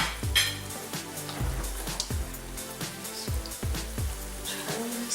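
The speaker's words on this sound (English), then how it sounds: "so I'll flip that meat over, get that kind of going in to the olive oil" Meat for Salisbury steak fries in olive oil, with a crackling sizzle under a series of low, rhythmic thumps and clanks as the pan is handled.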